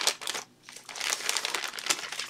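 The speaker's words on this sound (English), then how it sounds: "As is the norm, we have a plastic bag full of random components." A plastic bag full of loose electronic components crinkles and rustles continuously at close range, with one brief pause partway through.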